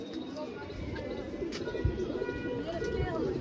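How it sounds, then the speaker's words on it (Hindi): Pigeons of an old local breed coo softly amid a noisy loft, low murmuring calls running continuously under someone talking nearby. "काफ़ी अच्छा कबूतर है ये माशाल्लाह, और ये बहुत पुरानी नस्ल हो गई हमारे यहाँ की"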